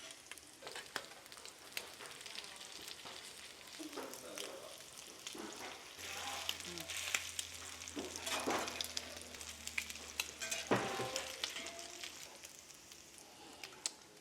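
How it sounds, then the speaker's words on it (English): Crab cakes sizzle and fry steadily in a hot pan, a continuous close crackle with occasional scrapes and stirs as they brown on each side; no one speaks. "I'm gonna cook this for a few minutes on each side until it's nice and brown."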